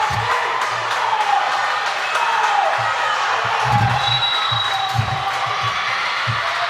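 A crowd in a high school volleyball gym cheers and claps steadily throughout, with scattered whoops and thumps rising above the dense, loud roar.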